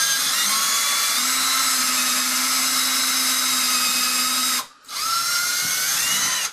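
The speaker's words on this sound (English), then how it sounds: "I usually like to drill this and back up and make sure it's wood and not metal flakes on there." Power drill boring into a wood wall stud during a kitchen range hood install, a loud steady high whine that holds for several seconds, cuts out briefly, then spins up again.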